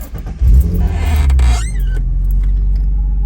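A car engine cranking and catching, loud and close, then settling into a steady low idle rumble with a brief squeal as it fires.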